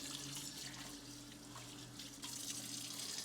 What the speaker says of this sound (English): A little spot I missed, just rinse it off a little bit.